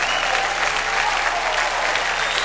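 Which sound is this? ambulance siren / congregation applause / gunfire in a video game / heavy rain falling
congregation applause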